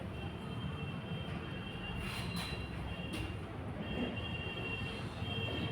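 A Namo Bharat rapid rail train runs past with a steady, dense rumble of wheels on track, brief metallic squeals cutting through now and then, heard alone and fairly close.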